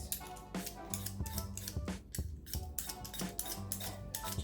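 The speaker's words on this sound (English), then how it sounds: "So we'll peel the potatoes." Potatoes being peeled with a knife for shepherd's pie, giving a steady run of quick, close scraping strokes at an even rhythm with brief pauses and no voices.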